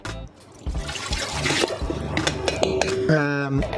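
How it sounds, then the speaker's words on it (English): Water pouring into a pizza dough mixer for New York style pizza dough, a splashing gush that starts after a brief quiet moment and continues steadily, with a tonal mechanical hum near the end. "Then we go with all the water inside."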